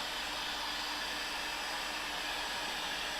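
A hot air blower or hairdryer runs steadily on a pair of leather boots, warming and melting wax into the leather, a constant close broadband whoosh with no talking.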